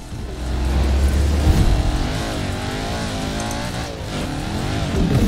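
An Audi races in the Forza Horizon 4 video game, its engine a loud, continuous drone that swells with revving throughout, with no talking over it.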